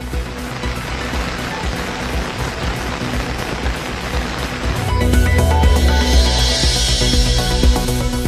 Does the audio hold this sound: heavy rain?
yes